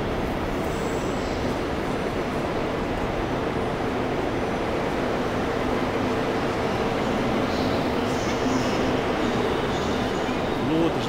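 Trains rumble steadily through a busy big-city station, a dense continuous roar of rail traffic with faint wheel squeal, loud and unbroken throughout.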